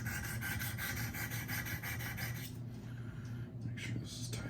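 A Spyderco Para 3 blade is drawn over the stones of a Wicked Edge sharpener in steady, rhythmic rasping strokes, close and fairly quiet, which trail off into lighter scraping near the end.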